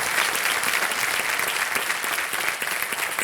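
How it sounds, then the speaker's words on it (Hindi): A studio audience on a television quiz show applauds loudly and steadily, dense clapping filling the whole stretch without a break and with no voices over it. "एक बार जोरदार तालियां फिर हो जाएं"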